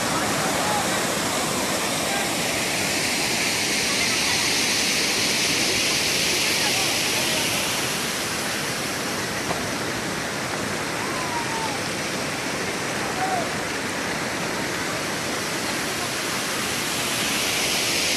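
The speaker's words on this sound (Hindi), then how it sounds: "चादर चली हुई है मोतीसागर डैम की" Water pouring over the Moti Sagar Dam spillway in Tonk, a steady loud full-band roar like a waterfall, close and unbroken throughout, with faint voices underneath.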